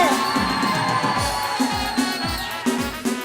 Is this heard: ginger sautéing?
no